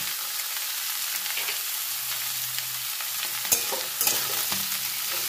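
Vegetables seasoned with salt and turmeric are stirred in a frying pan, a continuous bright sizzle broken by a few sharp scrapes of the spatula near the end.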